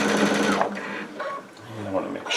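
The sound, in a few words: Baby Lock Altair sewing machine stitching quilt binding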